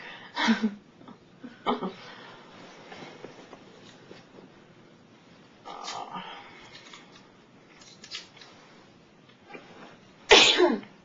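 Several loud, abrupt sneezes burst out at intervals across a quiet room in the Big Brother house, the last one the sharpest and closest.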